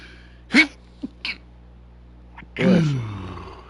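A single sneeze-like burst sounds up close, followed by a couple of short grunts, then a longer groaning vocal sound, all against a steady low hum.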